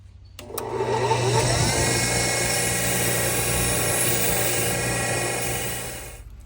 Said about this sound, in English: let's wire wheel this bad boy and see what happens